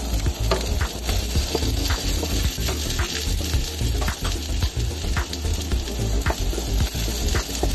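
Chopped onion sizzles steadily in hot oil in a frying pan while cooking bam-i fried noodles, a dense continuous crackle with stirring scrapes over it and no talk.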